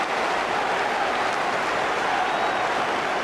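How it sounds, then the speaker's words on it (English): A football crowd at a 1979 Division One match between Crystal Palace and Nottingham Forest applauds a shot and save, a steady wash of distant clapping and murmur filling the whole stretch. "Applause all around there for the shot and the save"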